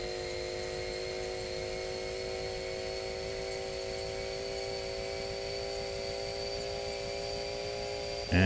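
Sustained high-revving engine whine from a car flat out at top speed in the GearBlocks game, steady and loud with strong tonal harmonics, ending in a sudden brief burst at the very end; no voices.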